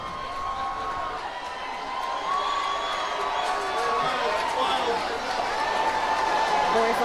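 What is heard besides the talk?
crowd cheering wildly at championship parade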